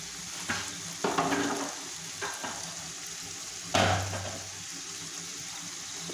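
Potatoes and native bheda fish fry in a pan, giving a soft steady sizzle with a few louder scraping stirs, close and alone without talk.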